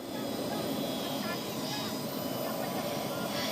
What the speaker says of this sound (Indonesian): gambar yang Anda lihat merupakan helikopter yang digunakan oleh Presiden Prabowo Subianto beserta rombongannya